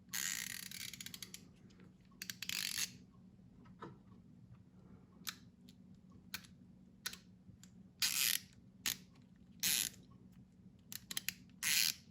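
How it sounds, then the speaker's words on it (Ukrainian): The ratchet of an RZTK SK 65 screwdriver set clicks in rapid bursts of dense mechanical ticking, several clusters separated by quieter gaps with scattered single clicks, close and clear with no talking. "тут така є тріскачка, і тут вона регулюється, в яку сторону крутиться"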